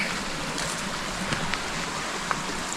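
Rushing water at Tungtong Falls fills the air with a steady, broad hiss, with a few faint clicks over it.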